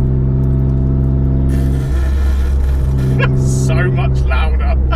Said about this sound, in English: So we'll open that up, the side exit exhaust.